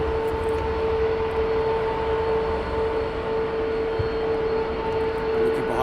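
A United Airlines airliner, flight 76, at Heathrow Airport gives a steady, distant engine roar with a faint whine, continuous and even throughout without talk.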